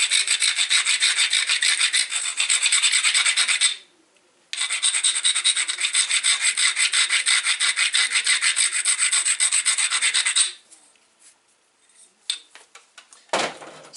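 The base of a flint knapping tool is ground with a loud, rhythmic rasping scrape in two long runs separated by a brief pause, followed by scattered quieter scrapes and a clunk.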